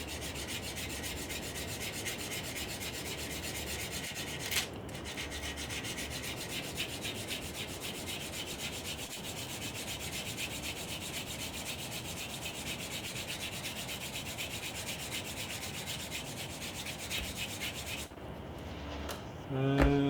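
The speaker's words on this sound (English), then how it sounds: "I might just try and give this a little bit of a sand at the rear end." A model's rear end being sanded with a sanding sponge, a continuous close scratchy rubbing that carries on steadily for almost the whole stretch, stopping near the end with a few clicks.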